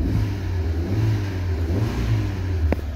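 Car engine revving hard while a new clutch is tested, a loud, close mid-pitched roar rising and falling for about three seconds, ending with a brief sharp click.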